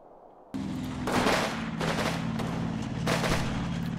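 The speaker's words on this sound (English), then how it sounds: "Pretty good show on that mortar." Mortar fire in the video game Combat Mission Red Thunder, several heavy booming blasts in quick succession over a rumbling low drone, loud and close, with no talking.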